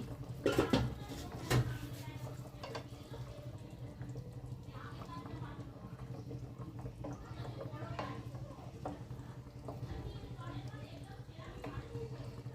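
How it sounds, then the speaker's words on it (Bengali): A lid comes off a wok of singhi fish curry with a couple of sharp metallic clanks near the start, followed by a soft, steady simmering bubble. A voice talks over it. "আরো মিনিট 2 হয়ে গেল, কড়াইয়ে ঢাকনা খুলছি।"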